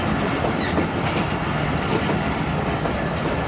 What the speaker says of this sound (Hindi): सफारी की शंटिंग हो रही है।